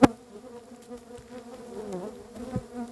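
Mojenti bees buzz steadily at close range while they are moved into a new box, a low droning hum that rises and wavers slightly, with a soft knock at the very start.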